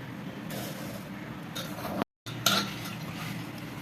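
Paneer biryani being stirred in a pressure cooker pot, with scraping and clinking of a spoon against metal, steady close handling noise broken by a brief silence midway.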